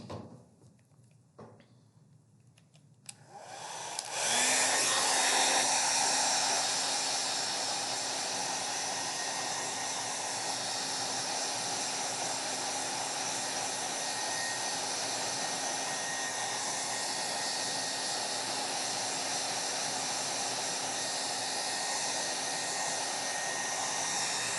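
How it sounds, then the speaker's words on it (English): Hair dryer blowing on a painted landscape to dry it, starting after a few seconds of quiet handling and then running as a steady, loud whoosh with a constant hum throughout. "I'm going to use a hair dryer."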